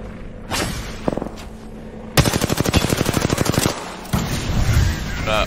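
Rapid machine-gun fire in a shooter video game: a few scattered shots, then a fast, loud automatic burst of evenly spaced cracks for about two seconds, followed by heavier rumbling fire.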